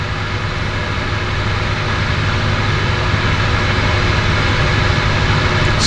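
An aircraft engine running steadily at a harbour airport, a loud continuous drone with a broad rushing roar that holds evenly throughout, no voices.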